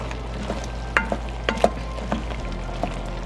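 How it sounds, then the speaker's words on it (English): Food browning in a hot pan with peppers about to go in, a steady close sizzle broken by several sharp scrape-and-clack stirring hits, alone without talk. "you want to stir it and then let it sit for a little bit more. Let it brown"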